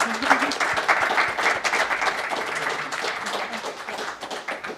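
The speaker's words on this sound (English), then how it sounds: "Another round of applause, please." An audience applauds at an evening interview event, steady clapping at moderate level with a few voices mixed in over just under five seconds.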